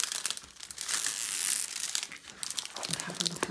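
The plastic cover being peeled back from a diamond painting canvas gives a steady crinkling, tearing rustle, close and fairly loud, with a brief swell of smooth peeling noise in the middle.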